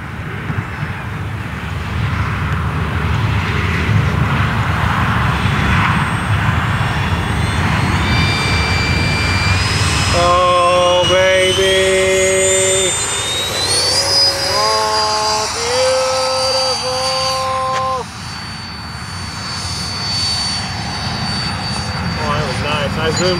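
A Freewing F-22 RC model jet makes a slow pass at an RC club field at dusk, its ducted-fan engine whine rising and shifting in pitch, mixed with wind and nearby talk.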